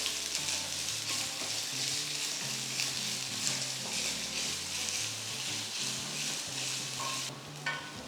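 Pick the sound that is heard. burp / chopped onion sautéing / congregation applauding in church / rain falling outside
chopped onion sautéing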